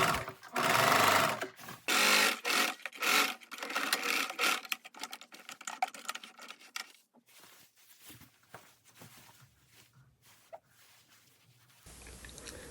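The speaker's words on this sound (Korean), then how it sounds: "시침핀으로 고정을 한 후에 쭉 박음질을 해줍니다" A sewing machine stitches the hem of a padded wrap skirt in several quick bursts of rapid clatter separated by pauses, followed by quieter handling noises as the fabric is adjusted.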